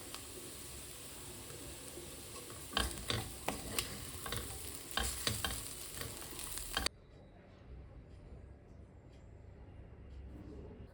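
Clam meat sizzles in a pan as it is stirred with curry leaves, bursts of scraping and crackle followed by a quieter, softer fry.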